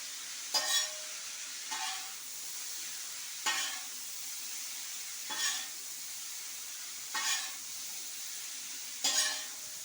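Chowmein being stirred and fried in a pan for a shop order: a steady sizzle runs throughout, broken by six evenly spaced scraping stirs, close and fairly loud, with no talking.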